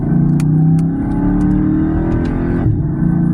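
A Dodge 392 muscle car's engine pulls hard under acceleration, a loud, close, deep rumbling roar that rises steadily in pitch, with a brief shift-like dip near the end.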